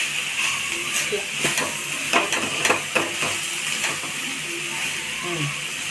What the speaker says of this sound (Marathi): आता हे आपण चांगलं मिक्स करून घेऊया